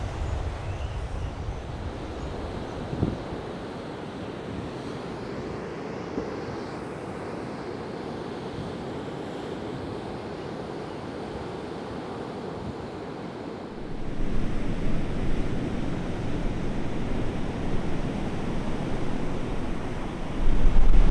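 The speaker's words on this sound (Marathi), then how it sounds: "तर हा आहे गणेशगोळेचा समुद्र किनारा। आत्ता उधाणलाय समुद्र" Rough, swollen sea surf rolls continuously onto Ganeshgule beach on the Konkan coast, a broad roaring wash mixed with wind buffeting, growing louder and fuller in the last third.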